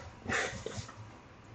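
A puppy gives a brief, soft whimpering whine up close, one short breathy cry lasting under a second against a quiet indoor background.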